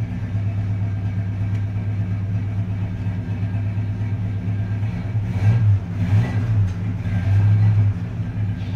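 A GMC Squarebody pickup idles steadily after a cold start, a deep continuous engine rumble close by, with two short throttle blips swelling the sound near the end.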